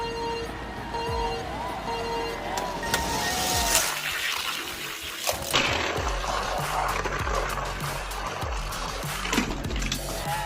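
Hot Wheels toy cars race down a plastic track, including a Porsche 911, a Lightning and a Lancer Evolution, making a steady rolling, rattling rumble that runs continuously and fairly loud with a few sharper clacks along the way.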